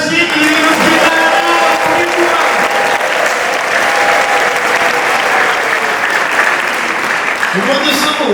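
Sustained applause from a church congregation fills the whole stretch, dense and steady clapping from a crowd in a packed sanctuary, with no voices rising above it.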